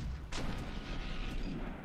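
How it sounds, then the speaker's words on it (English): A grenade launcher fires in the video game Ravenfield, one sharp blast followed by a low rumbling boom, with fainter thuds of distant combat continuing behind it. "And let's use the new grenade launcher."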